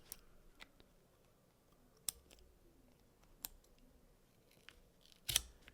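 Sharp scissor snips cut off excess thread right up to the stitches on a covered magnetic closure, a few quiet isolated clicks with the loudest snip near the end, no talking.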